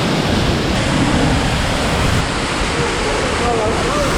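A waterfall pours hard on a Los Angeles hike, a dense, loud, unbroken roar of rushing water filling the whole clip.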